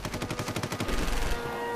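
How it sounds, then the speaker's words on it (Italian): Rapid bursts of automatic gunfire rattle in a fast, even rhythm during a wartime attack, then give way to a steady roar with scattered shots. "Nell'aria rimbombano gli spari"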